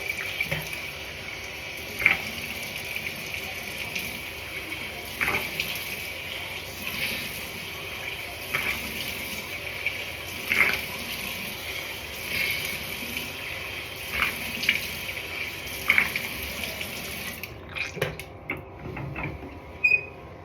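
Warm water runs steadily from a sink tap in a soft continuous stream while hands are washed, with faint knocks and splashes now and then before the flow stops near the end.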